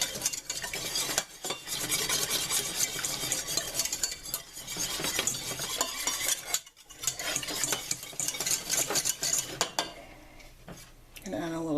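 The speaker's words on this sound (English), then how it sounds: "and now we're just going to start whisking." A whisk beats béchamel sauce in a pot with rapid, rhythmic clinks and scrapes that run continuously, broken only by a couple of short pauses.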